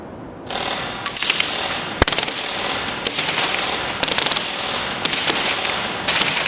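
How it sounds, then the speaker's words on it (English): A custom FN 30-K PolarStar airsoft gun firing test shots, rapid mechanical bursts with sharp clattering cracks over a continuous buzzing whir, several bursts in quick succession, loud and close. "we'll take a couple of test shots with the light on it"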